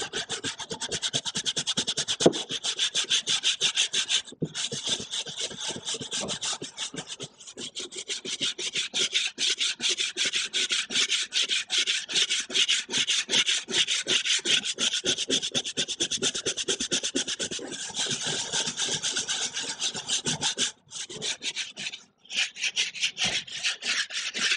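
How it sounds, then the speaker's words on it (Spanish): Stiff brush scrubbed back and forth over porcelain tile to lift epoxy grout and resin residue, a dense, continuous rhythmic scratching close to the mic, with only a few brief pauses between strokes. "Vamos a proceder a cepillar, y vamos a ver si luego tenemos que volver a dejarlo que siga actuando el producto."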